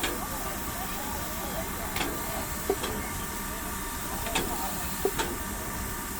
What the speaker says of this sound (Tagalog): This is the old train in Germany